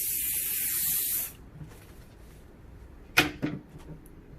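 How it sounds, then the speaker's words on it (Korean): A hairspray can hisses in one long burst for about a second, aimed from a distance at a styled wave hairdo, followed by quiet handling and a couple of short, sharp clicks. "어쩔 수 없이 스프레이 뿌려야 되고. 그렇지만 거리를 두고 뿌린다."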